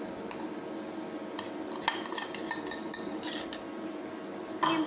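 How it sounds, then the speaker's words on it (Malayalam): A spoon stirring a dry mixture of ground rice, gram and amrutham powder in a pan for ariyunda: repeated metallic scrapes and clinks against the pan, close and steady, with no talk. "നമുക്കിത് നന്നായിട്ടൊന്ന് ഇളക്കി കൊടുക്കാം."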